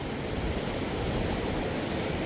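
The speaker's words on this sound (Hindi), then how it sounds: "रिवर की कलकल की आवाज़।" Steady broadband rushing of a river in the Valley of Flowers during the monsoon, a continuous murmur with no distinct events, fairly soft and unbroken throughout.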